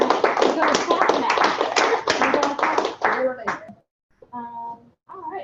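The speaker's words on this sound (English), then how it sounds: "Give her a round of applause." Audience applause after a show-and-tell presentation, with dense clapping that goes on for about three seconds, then thins out and stops. Brief voices follow.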